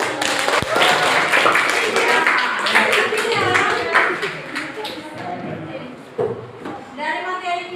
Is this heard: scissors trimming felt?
no